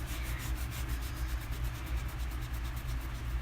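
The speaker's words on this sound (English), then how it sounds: "what I'm doing here is I'm just rubbing in a circular motion" Chalk transfer being rubbed in a circular motion with light pressure, giving a steady, continuous soft scrubbing with a faint rhythmic pulse, close and alone with no talk.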